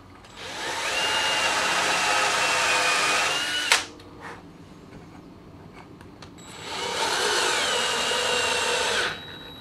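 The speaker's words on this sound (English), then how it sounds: "So now all we have to do is add some glue and put in some screws from the back" A power drill drives screws into wood from the back of a table saw outfeed table, two long whirring bursts separated by a short pause with a knock, loud and close, no speech.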